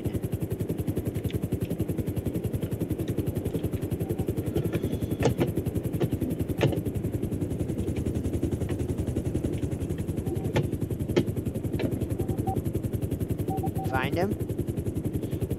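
Helicopter rotors in a video game chop rapidly and steadily throughout, a constant pulsing drone with scattered clicks and small bursts on top, while players talk over it.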